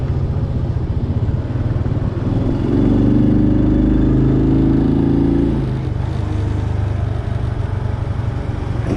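A motorcycle engine drones steadily up close while riding, with rushing wind and a brief rise in revs midway.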